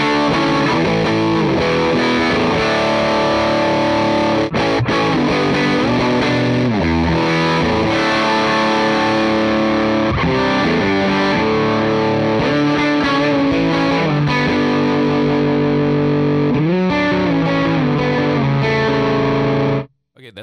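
Distorted electric guitar through a Cornerstone Nero Fuzz pedal playing chords and riffs with a thick fuzz tone, loud and continuous, then cutting off abruptly at the end.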